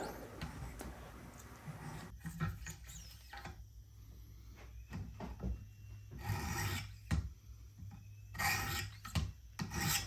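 A Schrade LB7 folding knife blade drawn across a 200 grit diamond sharpening stone, giving close, gritty rasping strokes in irregular bursts separated by brief quiet pauses.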